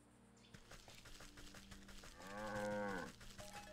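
A video-game cow gives one clear, drawn-out moo against a quiet backdrop of faint soft tapping.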